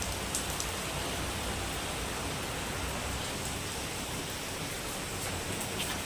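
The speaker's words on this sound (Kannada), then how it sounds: "ಮಳೆ ಇಲ್ಲ ಅಂತೇಳಿ ಓಕೆ ಇವಾಗ ಆಲ್ರೆಡಿ ಸ್ವಯಿ ಅಂತ ಬೀಳ್ತಾ ಇದೆ" Steady, even hiss of rain falling, continuous and unbroken for the whole stretch, with no voices.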